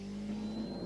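A Ford Escort Cosworth Group A rally car on Pirelli tyres at the 24H Ypres Rally holds a steady droning engine note, fairly loud and sustained without a break.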